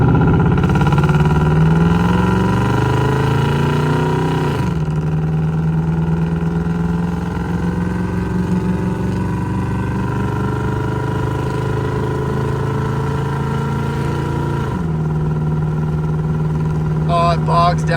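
A cammed pickup truck on Boggers tires is driven from inside the cab, its engine drone sagging and lugging as it bogs down under load, then pulling steady again, loud and continuous with someone talking over it.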